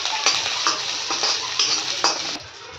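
Green chilies fry in a little oil in a pan, with a steady bright sizzle and utensil stirring scrapes repeating roughly every half second. The sizzle fades out near the end.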